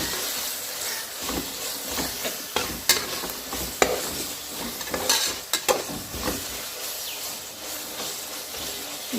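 Green chilies and a handful of coriander leaves sauté in a pan, with a sizzle under irregular, sharp clinks and scrapes of stirring close by.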